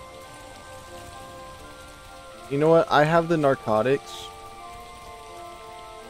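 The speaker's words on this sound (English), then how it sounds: "Oh, it's raining. Perfect." Rain in the survival game ARK: Survival Evolved on the Scorched Earth map makes a steady, soft hiss of falling drops, with someone speaking briefly partway through.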